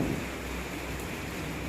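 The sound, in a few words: heavy rain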